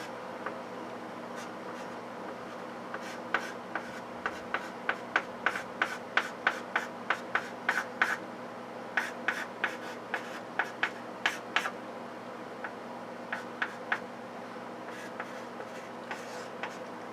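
A pen or marker writes on a board or tablet in quick, sharp taps and short strokes, a dense, irregular run of small clicks over a faint steady hum, with no voices.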